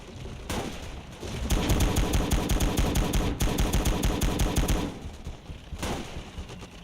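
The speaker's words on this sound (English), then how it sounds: "At this point, I'm literally just shooting, and I'm still getting kills, even though this range is inaccurate" Rapid gunfire in the World War II game Gate of Hell: Ostfront: loud, dense bursts of shots crackle close by, pause briefly, then return in short volleys.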